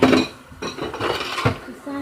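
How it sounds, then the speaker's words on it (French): Dishes being gathered up and cleared away, with ceramic and cutlery clinks, scrapes and clatters coming in quick irregular bursts close by, and no talk over them. "Faut juste enlever la vaisselle."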